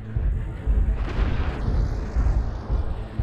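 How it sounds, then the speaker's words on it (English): Deep, rumbling artillery-strike explosions in a mech combat game, with heavy booms rolling one into the next and a faint whining tone over the top. "Artillery strike online."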